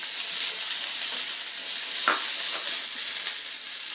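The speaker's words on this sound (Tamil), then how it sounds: "ஸ்லோலே வச்சு நல்லா வதக்கிக்குங்க." Onion and chillies sauté in a pan, giving a steady, close sizzle with a few soft scrapes of stirring and no talk.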